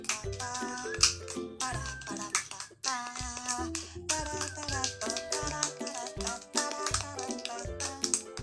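Finger snaps and hand claps keep a steady rhythmic pulse inside a busy musical backing, with sharp repeated accents at close range throughout.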